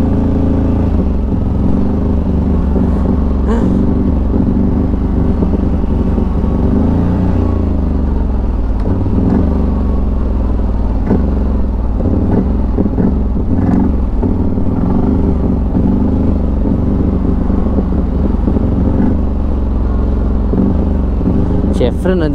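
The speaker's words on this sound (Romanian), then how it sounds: "Ce frână de motor are, mai ales amu cum am umblat un pic la el." A CFMoto 1000 ATV engine-braking downhill in snow. A continuous low engine drone with clattering rumble runs loud and close for the whole stretch, while people talk over it.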